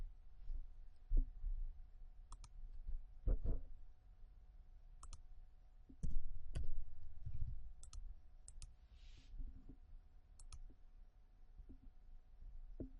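Computer mouse clicks at a desk, a dozen or so sharp isolated clicks spaced irregularly, some in quick pairs, against a quiet low hum with faint handling thumps, no talking.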